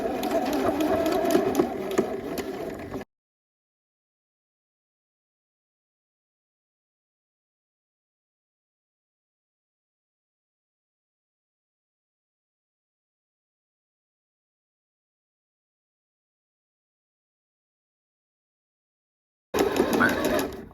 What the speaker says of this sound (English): I'm gonna start to stitch and back stitch.